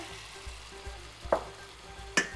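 Oil sizzling in a frying pan while a grav bean salad is being prepared, a steady near hiss broken by a few sharp crackles and clinks of utensils against the pan.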